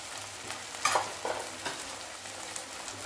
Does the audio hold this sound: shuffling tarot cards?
no